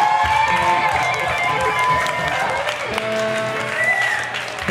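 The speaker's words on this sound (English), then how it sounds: "Everybody clap for Agun." A crowd claps and cheers in a lively, continuous burst, with whoops and voices mixed into the applause and some talking underneath.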